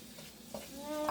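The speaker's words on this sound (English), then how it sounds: "just put our onion first. I like cooking my onion first." Onion sizzles faintly in a pan as pancit cooking begins, a soft frying hiss with a stirring scrape near the end, under low background noise.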